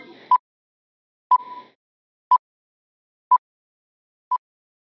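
Quiz countdown timer for a physical education exercise quiz: five evenly spaced short electronic beeps, one per second, clear and alone against silence.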